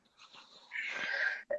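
A single human sneeze with a short wheezy inhale building up, then a sharp burst, close and fairly loud, followed by a brief trailing sound.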